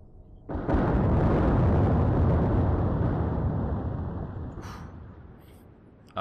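A depth charge explosion in the naval video game Atlantic Fleet, a sudden heavy boom that swells into a long, dense rumbling roar and slowly fades over several seconds.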